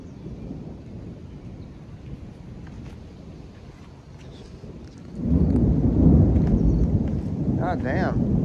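Thunder rumbles through a dark thunderstorm that spawned a tornado, a low rolling boom swelling midway and holding loud over wind buffeting the microphone, with a voice speaking near the end.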